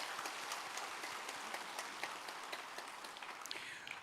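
A church congregation at Sunday worship claps to welcome new members, a soft, even patter of many hands that stays faint and distant from start to finish.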